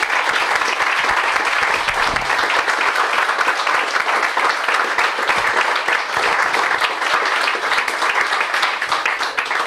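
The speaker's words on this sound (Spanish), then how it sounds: "un aplauso" Sustained, dense applause from an audience at the close of a public talk, loud and even throughout with no pauses.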